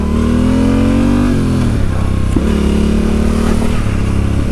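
A Yamaha Tenere 700 ridden off-road, its engine humming steadily up close, pitch easing down and then climbing again as the throttle changes.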